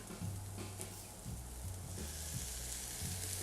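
Garlic and onions fry in a pan with a steady, close sizzle and crackle, broken by a few low knocks of stirring.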